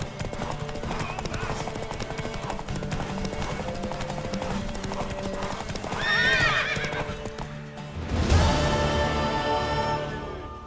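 Horse hooves clopping steadily and a mare neighing loudly in The Witcher 3: Wild Hunt, set against a dense game soundtrack, with a second whinny rising near the end.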